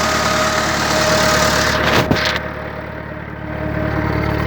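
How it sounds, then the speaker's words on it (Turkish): An old Massey Ferguson 165 tractor engine idles steadily with a low, even mechanical rumble, briefly dipping midway before settling back to a constant hum. "Traktörümüz Masey 165'lik motorun eski olmasına rağmen gördüğünüz gibi şu anda 11 gaz"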